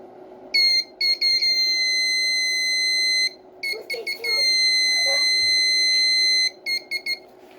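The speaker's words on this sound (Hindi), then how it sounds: "इसमें हमने वोल्टेज अप्लाई की तो इसमें बीप की आवाज़ आ रही है।" An active electronic buzzer, powered by an applied voltage, sounds loud high-pitched beeps close up, some long and steady and others short and choppy, over a low background hum.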